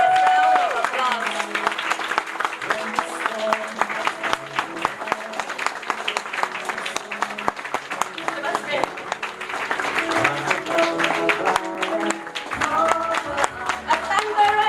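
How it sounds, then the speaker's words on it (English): A large crowd at an anniversary celebration gives a standing ovation, applauding continuously and loudly for a long stretch, dense clapping with music playing underneath. "give these heroes and heroines of the faith during the early days in Malacca a standing ovation and a thunderous round of applause"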